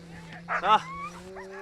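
Sled dogs at mealtime after hours of Arctic sledding give a few short, high whines and yips close by, over a faint steady hum.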